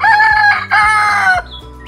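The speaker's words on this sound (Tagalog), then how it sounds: "Pasensya na kayo, maingay yung manok." A rooster crows loudly nearby in two long harmonic calls, then a hen clucks softly as the crowing breaks off.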